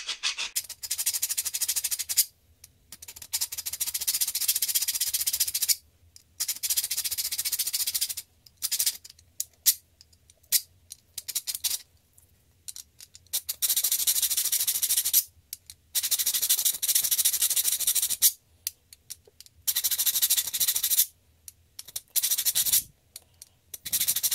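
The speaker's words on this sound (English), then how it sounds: "I'll just do a couple and kind of grind it down real quick" Old saw teeth are ground down with a tool in repeated harsh, scratchy bursts of a few seconds each, broken by short pauses, loud and close with no talking.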